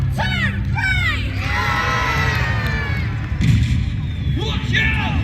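Crowd of children and adults cheering and shouting encouragement for the winders of a trebuchet at Warwick, loud and sustained with whoops rising above the roar, plus a brief thud partway through.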